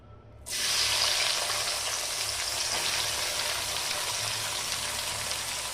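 Chopped onions hit hot oil in a pan and burst into a loud, steady sizzle that starts abruptly and keeps hissing close by without pause.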